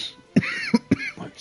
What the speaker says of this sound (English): Stoner cough,